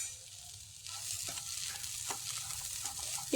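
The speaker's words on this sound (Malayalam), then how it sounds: "പയറും കൂടി ചേർത്തിട്ട് ഒന്നുകൂടി ഒന്ന് വഴറ്റി കൊടുക്കാം" Grated coconut and beans are sautéed in a pan, giving a soft, close sizzle with scattered stirring scrapes and light knocks from the spoon.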